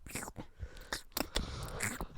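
A close, quiet voice makes wet, squelchy mouth clicks and smacks, imitating footsteps squishing through mud in an irregular rhythm.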